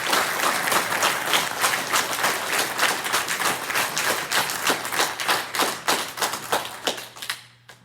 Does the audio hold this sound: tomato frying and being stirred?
no